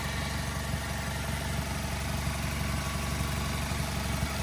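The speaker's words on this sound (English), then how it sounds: "nice and smooth running engine" A 2010 Mazda 3 with a 2.0-liter four-cylinder engine idles steadily, heard up close with the hood open as a smooth, even, continuous hum with no other sounds.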